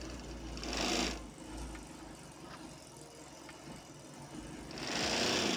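A sewing machine stitches trouser fabric in short bursts, two loud whirring runs at the start and end with quieter mechanical ticking between.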